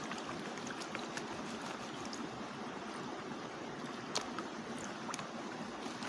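A river rushes steadily past a small waterfall in a constant, broad wash of flowing water, moderately close, with nothing else standing out.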